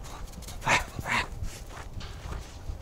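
A dog barks twice in quick succession at moderate distance, followed by quieter yips and a faint whimper against a low, steady background.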